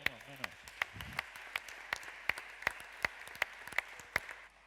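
Sparse, evenly spaced claps from an audience welcoming a speaker to the stage at a vocational training forum, individual hand claps ringing out one after another at a quiet level with a faint voice at the start.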